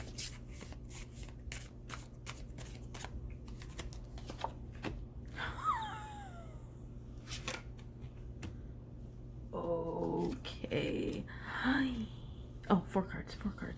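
Tarot cards being shuffled in short papery riffles and flicks, close and fairly quiet, with a person talking at intervals over the card sounds.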